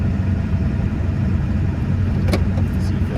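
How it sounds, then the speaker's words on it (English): A pickup truck engine that is down on power runs steadily up close, a loud, even low-pitched rumble with no talking over it. "This truck ain't got no power right now."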